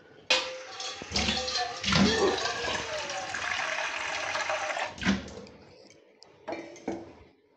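Water gushes into a metal pot holding whole potatoes for Bengali fair-style ghugni, a loud pour of several seconds with clinks of the pot and a few shorter splashes after.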